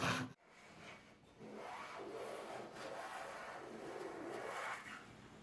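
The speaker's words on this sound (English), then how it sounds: "I'm just ripping with a variety of saws here on some 3/4 inch material," Hand saws ripping through 3/4 inch wood held in a vise, giving a continuous close rasping stroke after a brief knock, with steady back-and-forth sawing throughout.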